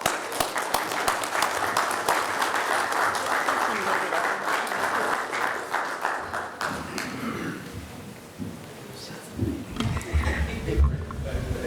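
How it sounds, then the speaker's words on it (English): A roomful of people at a county commissioners' court gives volunteers a big, sustained round of applause, loud and steady for several seconds before tapering into scattered claps and murmuring voices. "These people deserve a big round of applause,"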